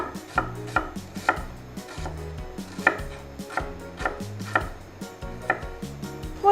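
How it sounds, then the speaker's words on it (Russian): A knife chops a medium onion into quarter rings on a cutting board: steady, evenly spaced sharp strikes repeat close by over soft background music. "И сразу нарежем лук."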